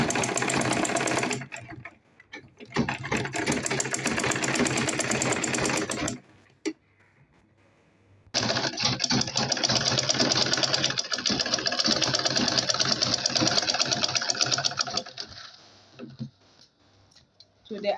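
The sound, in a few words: sewing machine top stitching a purse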